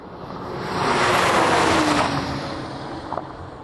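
An Audi RS5 and a BMW M3 accelerate hard in a drag race, their combined engine roar swelling to a loud peak mid-run before easing off as the cars pull away, with a brief sharp transient near the end.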